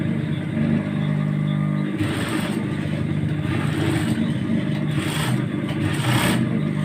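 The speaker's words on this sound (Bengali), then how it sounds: "দেখেন কীভাবে সেলাই দিচ্ছি।" A sewing machine stitches small baby shorts in bursts of fast, whirring motor hum. Short runs rise and fall close by, with a steady background drone between them.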